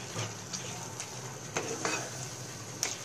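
Potato halwa cooks in ghee for a fasting recipe, a soft continuous sizzle under a few light scrapes and taps of a spoon against the pan.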